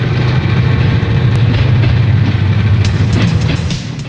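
A passenger train rumbles loudly and steadily close by as it departs a station, a heavy low roll with faint rhythmic clatter, easing slightly toward the end.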